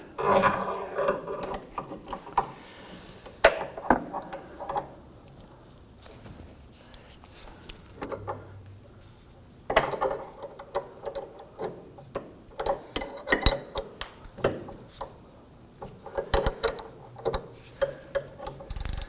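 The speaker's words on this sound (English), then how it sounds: "All right, let's go ahead and tighten this down." Tie rod tool tightening an inner tie rod on a 2008-2011 Ford Focus, giving irregular mechanical clicks and scraping bursts with quiet pauses between, heard close up with no talking.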